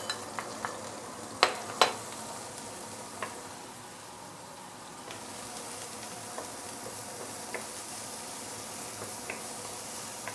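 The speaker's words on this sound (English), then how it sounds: "So we are going to saute this for a minute or two before we continue." Ginger, garlic, shallot and coriander roots sautéing in hot oil, a soft steady sizzle with a few sharp clicks and taps of the utensil early on, no talking.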